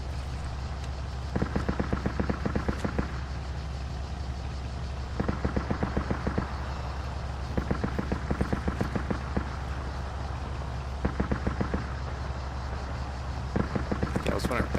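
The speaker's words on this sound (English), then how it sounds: "Quite a bit of gunfire going on in there." Repeated bursts of rapid gunfire in the video game Arma 3 come in short volleys every few seconds over a steady low rumble, with talk in the background.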